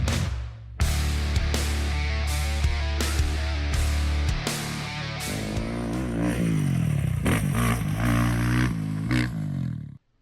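A 2011 Kawasaki KX250F dirt bike engine running with a stuck high idle, a loud steady buzzing drone close by, with a few sharp blips early on before settling into a constant high-pitched run that cuts off abruptly.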